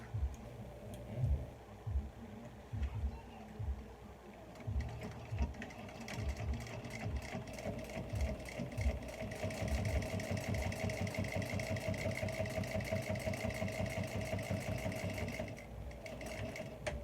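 A sewing machine top-stitches fabric, starting with slow, uneven bursts of stitching before settling into a steady, fast mechanical whir with rapid ticking, close and clear with no talk.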